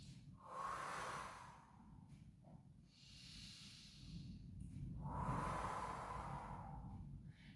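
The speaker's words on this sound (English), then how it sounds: "Nice strong breath out through the mouth." Strong exhalations pushed out through the mouth during a core yoga exercise, two long breathy gusts with a pause between, close and moderately loud with no talking.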